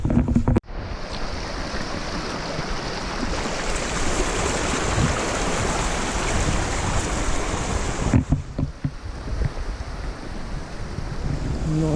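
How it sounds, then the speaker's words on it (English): River water rushes steadily as someone crosses a river on foot, a loud, continuous broadband wash with wind buffeting the microphone. There is a brief break near the start and a dip around eight seconds, and no talking. "Nice easy crossing the river."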